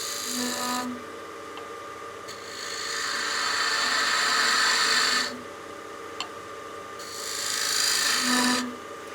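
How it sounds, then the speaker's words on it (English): A skew chisel cuts a tenon recess in a spinning workpiece on a wood lathe for a bat house ornament, with rasping scrapes in several bursts over the steady hum of the lathe motor and no talking. "to cut that recess, we're going to use our skew"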